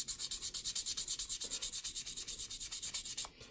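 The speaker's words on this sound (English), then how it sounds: "So just give it a light sand." A freshly moulded 1/24 scale model car body is lightly sanded by hand in quick, even back-and-forth strokes, a close rhythmic scratchy rasp of about eight strokes per second that stops near the end.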